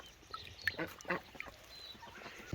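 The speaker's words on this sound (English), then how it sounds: "Bloody ducks." Ducks around farm laying boxes give a few faint quacks and honks, scattered over a quiet outdoor background.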